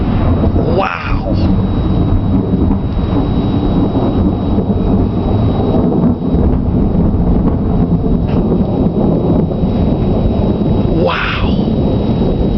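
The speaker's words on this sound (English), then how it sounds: "Listen to that thunder." Thunder rumbles through a lightning storm, a low continuous roar under steady rain and wind buffeting, with sharper cracks near the start and end; voices call out over it.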